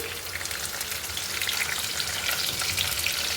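Long-sliced onions frying in hot oil with tempering seeds, giving a steady, close crackling sizzle that holds evenly throughout with no voices.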